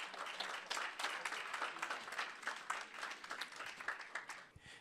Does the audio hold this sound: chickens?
no